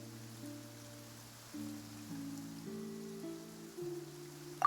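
Rain falls during a Genshin Impact cutscene, a steady soft patter running throughout under sustained musical tones, with a brief sharper sound at the very end.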